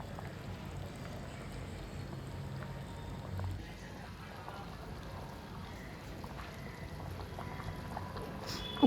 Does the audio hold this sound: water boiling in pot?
yes